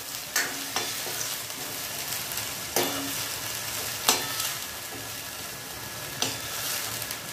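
Spring onion greens frying in a pan give a fairly quiet, continuous sizzle broken by a few sharp scraping clicks from stirring.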